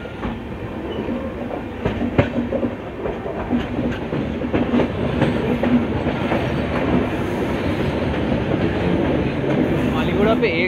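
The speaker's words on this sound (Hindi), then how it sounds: "ट्रेन एक बहुत ही शार्प कर्व ले रही है" A passenger express train rounds a sharp curve through hills, carriages rumbling and clacking steadily with faint wheel squeal, heard from on board with a continuous loud rolling noise.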